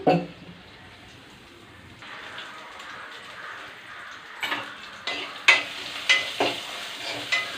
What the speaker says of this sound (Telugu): మనం పప్పుకి పోపు అనేది పెడుతున్నాను